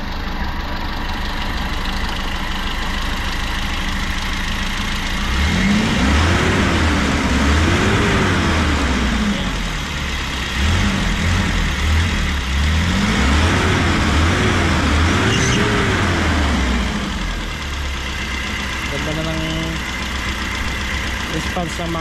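A Toyota Liteace engine idles steadily while being tuned, a loud continuous mid-pitched hum with a slight rise and fall in revs, heard alone without talk.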